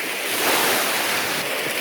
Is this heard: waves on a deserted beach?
yes